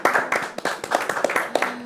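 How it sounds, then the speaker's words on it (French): A studio audience on a TV talk-show set claps in scattered, uneven bursts, with individual hand claps standing out rather than a full dense roar, fairly close and moderately loud. "Est-ce qu'on peut applaudir cela sur ce plateau?"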